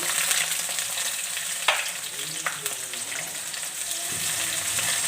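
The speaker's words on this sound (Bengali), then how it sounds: "আর এটাকে গোল্ডেন করে ফ্রাই করে নেব" Onions, chilies, bay leaves and garam masala fry in a pan with a loud, steady, close sizzle, broken by a few light stirring clicks.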